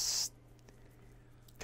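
A single voice imitates an aerosol bug spray with a short, loud breathy hiss at the start, followed by near silence and a second hiss just beginning at the end.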